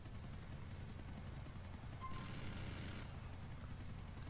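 A helicopter flies low in the video game GTA IV. Its rotor whir is a steady, continuous drone that holds at an even level throughout, with no talk over it.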